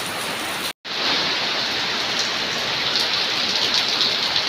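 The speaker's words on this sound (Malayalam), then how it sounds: "നെല്ലിക്കുഴിയിൽ ഓരിപ്പാറ ഏരിയയിൽ കുഴപ്പമില്ലാത്തൊരു മഴ പെയ്യുന്നുണ്ട് കേട്ടോ" Steady rain pours at Orippara near Nellikuzhi, a dense, even hiss of drops on surfaces that holds loud and unbroken throughout, cut by one brief gap near the start.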